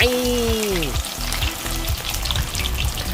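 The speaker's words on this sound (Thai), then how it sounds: "ทอดอีกนิดนึง เราดูเอาเองนะเอาแค่กรอบนะ" Tofu fries in hot oil until crispy, giving a steady, close, busy sizzle with crackling bubbles throughout, and a few low bumps in the first second.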